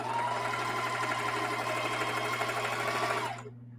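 A sewing machine stitches the edge of a scrappy strip quilt from the back, humming loudly and evenly for over three seconds before stopping abruptly.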